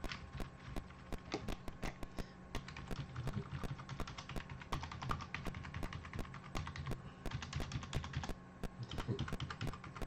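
Keys on a computer keyboard are pressed in rapid, irregular bursts of sharp clicks, close and fairly quiet, running throughout with no talking.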